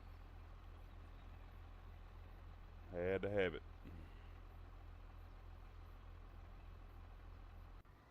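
A Case tractor's Cummins diesel in Farming Simulator 25 idles in a steady, smooth low drone throughout, with a brief spoken phrase over it partway through.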